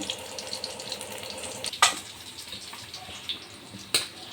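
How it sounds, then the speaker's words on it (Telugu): Fish pieces frying in hot oil in a pan, giving a steady close sizzle with a couple of sharper pops and clinks. "ఆల్రెడీ కొన్ని ముక్కలు ఫ్రై చేస్తున్నాను నేను"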